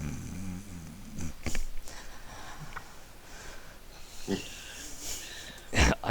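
A voice imitating a character snoring on a bunk, giving a few rough, snorting inhaled snores spaced apart, quiet and close, with some talking around them.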